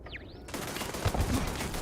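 A grenade going off in the space game Starfield: a sudden loud blast after a brief whooshing sweep, then a rumbling, crackling aftermath that rolls on with a few heavy low thuds.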